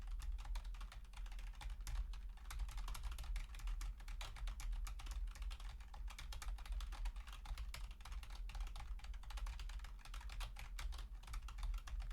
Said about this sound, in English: What has her typing so much?